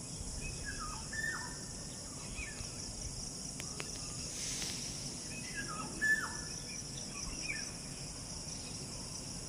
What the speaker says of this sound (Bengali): বাইরে একটা পাখি ডাকছে।